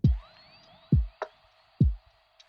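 A soft, muffled lo-fi drum beat with deep kick thumps and light snappy hits, laid back and slightly dusty in tone, repeating at a relaxed tempo.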